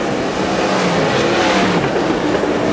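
Modified race cars roar past on a speedway track during a North Island Modified and Superstock championship, a dense, loud, continuous wash of engine noise from several cars at close range.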